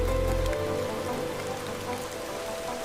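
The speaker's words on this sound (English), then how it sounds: "The rain had softened, drizzle threading silver against the glass." Soft drizzle patters steadily against window glass, a gentle, even hiss of light rain that stays close and quiet throughout, with no voices.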